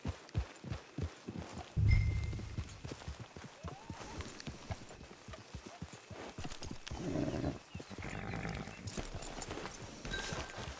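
Horse hooves clip-clop in Red Dead Redemption 2, a steady run of close, loud hoofbeats that slows and fades toward the end while wind, ambient rumble and a brief low thud sit beneath, with no talk.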